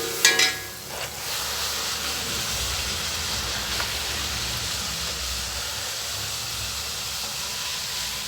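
Poori frying in hot oil gives a steady, loud hiss and sizzle that stays even throughout, with a brief louder splutter at the start as the dough goes in.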